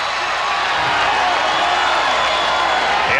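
A basketball arena crowd roars continuously at a 1992 NBA Finals game between the Chicago Bulls and Portland Trail Blazers after a turnover, forming a loud, dense, unbroken wash of cheering with no clear breaks.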